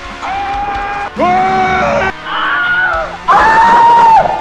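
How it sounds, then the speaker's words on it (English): Four separate screaming sound effects are played back one after another from a soundboard, each a loud, sustained human scream of about a second, separated by short gaps. "And then screams."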